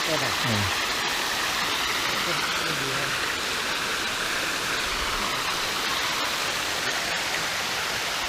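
A limestone waterfall rushes with a constant, loud, broadband roar that fills the whole scene without pause.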